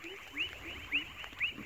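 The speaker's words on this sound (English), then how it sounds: "And these frogs are really loud." Frogs calling on a rainy night in the Amazon, with repeated bright chirps about every half second over a steady chorus and low croaks, fairly close.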